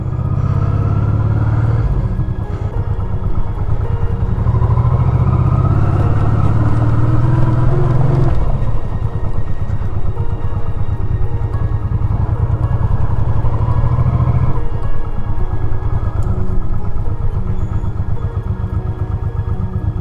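A motorcycle engine running during a countryside ride in Ukraine's Rivne region, a loud, steady close rumble with pitch shifts as the rider changes speed, continuous with no voices.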